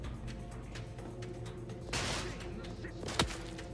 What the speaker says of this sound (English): Who's shooting at me from where?